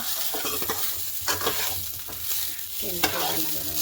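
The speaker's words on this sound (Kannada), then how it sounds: "ಎರಡು ಸ್ಪೂನ್ ಎಣ್ಣೆ ಹಾಕಿ ಕೊತ್ತಂಬರಿ ಸೊಪ್ಪು ಈರುಳ್ಳಿ ಬೆಳ್ಳುಳ್ಳಿ ಹಾಕಿ ಹುರ್ಕೊಬೇಕು" Coriander leaves, onion and garlic fry in two spoons of oil, giving a steady close crackling sizzle with intermittent scraping stir strokes throughout.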